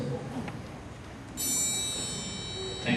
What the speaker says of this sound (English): That's the triangle.